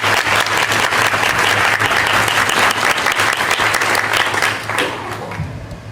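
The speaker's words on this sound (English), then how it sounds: "You can all stand and get a round of applause." A school board meeting audience applauds this year's student award recipients as they stand, a dense, steady round of clapping from a crowd that carries on evenly before easing slightly near the end.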